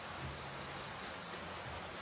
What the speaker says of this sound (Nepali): हाम्रोतिर त पानी परिरहेको छ